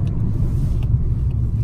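A car's engine and exhaust rumble loudly and close by in a deep, steady drone that holds for the whole short stretch, with no talking over it.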